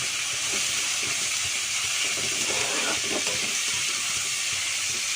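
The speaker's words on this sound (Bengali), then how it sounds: "এটা একটু ভাজা ভাজা করবো, জিরে আদা বাটা দেবো, দিয়ে কষাবো।" Spices hiss and sizzle steadily in a hot pan with salt and turmeric in a home kitchen, a continuous frying noise with light stirring in the middle.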